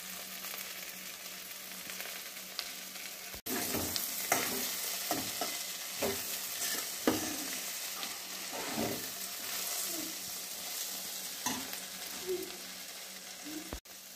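Okra curry frying in a pan is stirred with repeated scraping strokes of a spoon over a soft background sizzle, with a brief pause near the start and a second one near the end.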